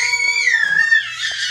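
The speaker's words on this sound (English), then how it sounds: "The shriek is heard." A single high, wavering shriek that rises and then slides downward, short and close, from a child playing with a grandmother.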